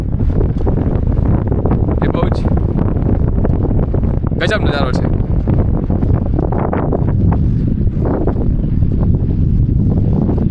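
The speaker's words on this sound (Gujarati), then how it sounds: "ગાઈસ બહુ જ ફાસ્ટ પવન ચાલી રહ્યો છે" Strong wind buffets the microphone at a seashore in Kutch, where fishing boats are moored, making a loud, continuous roar throughout while someone talks over it.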